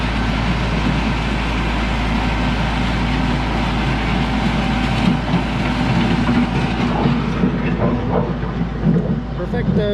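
A Kubota tractor engine runs steadily while grading a gravel driveway, a loud, continuous close-up rumble and drone that holds level throughout.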